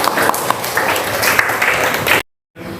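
Applause in a classroom at a religious-studies lesson, a dense, steady patter of many hands clapping together for about two seconds before stopping abruptly, with a faint room hush afterward.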